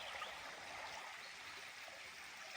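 A creek flows past a hiking trail crossing where a washed-out bridge once stood, a soft continuous rush and trickle of water heard alone at a low, even level.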